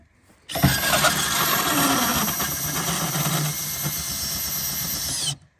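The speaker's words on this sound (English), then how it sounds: "It's really nice and fast with this drill." A cordless power drill whirs loudly and steadily for about five seconds, a high-pitched motor whine with slight wobble, then stops abruptly.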